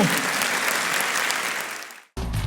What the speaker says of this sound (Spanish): Damos un aplauso a Dios, hermano, porque Dios es bueno.